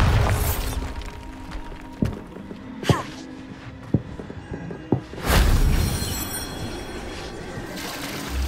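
A Bombarda spell explosion: a few sharp cracks and thumps build up to one loud, broadband blast that rolls into a long, noisy rumble and then fades slowly.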